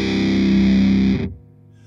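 Electric guitar tuned to C standard played through stacked fuzz pedals, a thick, saturated distorted chord ringing loud for over a second before cutting off abruptly into near silence.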